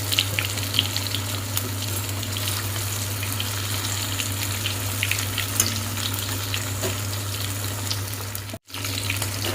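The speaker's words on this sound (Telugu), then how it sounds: "కాస్త పెద్ద పీసులు ఉంటే, మందంగా ఉంటే కాస్త ఎక్కువసేపే వేయించుకోవాలన్నమాట." Tuna fish pieces frying in oil, a steady, continuous sizzle with a low constant hum underneath, holding at even loudness throughout with one brief dropout near the end.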